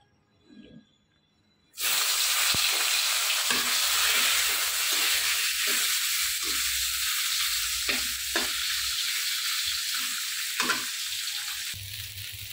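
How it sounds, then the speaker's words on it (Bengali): Fish frying in a pan gives a loud, steady sizzle that erupts suddenly after a quiet moment, with occasional stirring scrapes and crackles over the hissing oil. "এখানে আমি এখন মাছটা ভেজে নিচ্ছি।"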